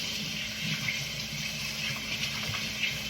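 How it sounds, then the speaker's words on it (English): Tap water running into a sink while hands are rinsed, a steady, soft hiss of flowing water with light splashing throughout. "I'm gonna rinse my hands off real quick."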